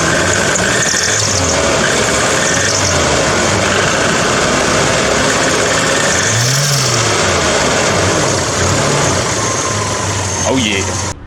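A Toyota 4Y engine in a 1986 Hilux runs cold with a steady idle, a thin belt squeal and a few quick rev blips rising and falling. The sound is close and loud, with voices talking over it.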